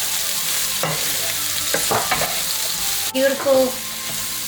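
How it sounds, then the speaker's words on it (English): Bok choy and shiitake mushrooms sizzle steadily in a hot pan for spicy chicken chow fun, with stirring clatter and a brief scrape; a voice speaks briefly near the end. "Bok choy and shiitake mushrooms going in."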